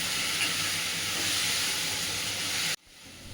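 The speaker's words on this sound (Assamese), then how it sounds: "ইয়াত কেৰাহীতে অকণমান তেল দি পাঁচফোৰণ ফুটাই পেলাই পিঁয়াজ আদা নহৰুখিনি ভাজি লৈছোঁ" Onion, ginger and garlic frying in a little oil with panch phoron in a wok, a loud steady sizzle that cuts off abruptly near the end.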